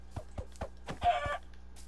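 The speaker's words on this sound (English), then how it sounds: "Okay, we got a chicken." Chicken clucking in the video game Minecraft, a few quick soft clucks in a short rhythmic burst, alone and fairly faint.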